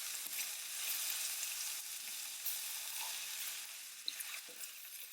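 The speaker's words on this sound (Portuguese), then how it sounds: "Vou adicionar o arroz." Rice added to a seafood risotto base fries in a pan with a steady, soft sizzle throughout, broken by occasional faint clicks of stirring.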